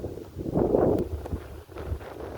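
Wind blows outdoors as a steady low rumble buffeting the microphone, surging loudest early and then settling into a continuous, moderately loud gusting with no voices.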